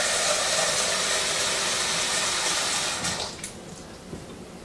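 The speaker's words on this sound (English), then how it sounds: "I have picked out my large Viking pot, and so I get to add water with this wonderful pot filler" Water pours from a kitchen pot filler into a large Viking pot, a steady loud rushing stream that thins and quiets near the end as the flow slows.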